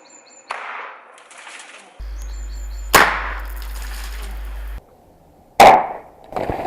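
An airsoft anti-personnel launcher fires with sharp, loud bangs outdoors, two distinct blasts separated by a low hum, with small clicks and handling noises between them.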